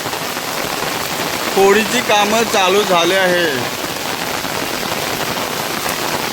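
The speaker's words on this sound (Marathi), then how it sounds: "मित्रांनो पाऊस भरपूर झाला आहे" Heavy rain pours steadily throughout, a dense even hiss, while someone talks over it in the middle stretch.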